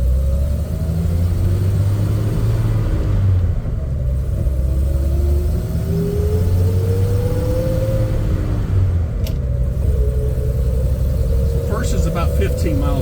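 A Toyota FJ Cruiser's 6-cylinder engine pulls away with a steady low rumble, the pitch rising gently as the vehicle gathers speed, heard from inside the cabin under ongoing talk.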